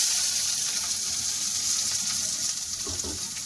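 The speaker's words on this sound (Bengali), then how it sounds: "পেঁয়াজটা ভালো করে ভেজে নেবো" Chopped onions frying in hot oil with a bay leaf and dried red chilli, a steady bright sizzle and hiss throughout, with a few soft stirring knocks near the end.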